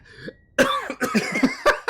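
A brief faint tone, then a series of rough, rapid coughs from a character in the video game Doom, several close together, loud and near.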